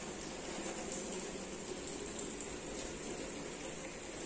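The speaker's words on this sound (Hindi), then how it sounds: "आज सुबह से ही पानी गिर रहा है, रुका नहीं है।" Steady rain falls in a constant, even hiss, a soft wash of drops with no voices or other sounds standing out.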